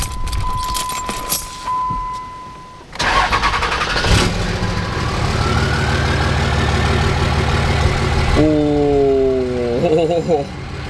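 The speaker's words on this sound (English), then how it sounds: "Do you hear that whistle on startup?" Cummins diesel truck engine with a 64mm Stealth drop-in turbo, heard after a jangle of keys and a brief beep, cranking and firing to a steady idle, then sliding whistles near the end with a voice.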